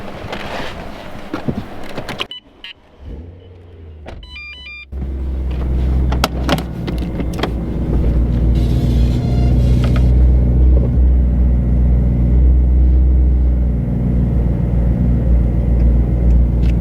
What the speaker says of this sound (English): So I'm gonna pull the car out now that it's all clean.